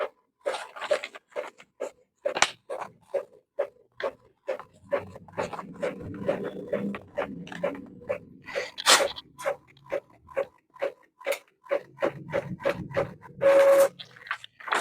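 A printer runs a test page, giving a close, rapid series of clicks, ticks and short mechanical bursts in an uneven rhythm, with brief quiet gaps between them.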